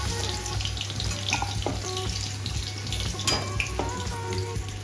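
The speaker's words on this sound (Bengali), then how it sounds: "আলুগুলো মা এখানে ভেজে নিচ্ছে ভালো করে।" Potatoes sizzling and crackling in hot oil in a home kitchen, a steady close frying hiss with occasional pops and stirring clinks, no talking.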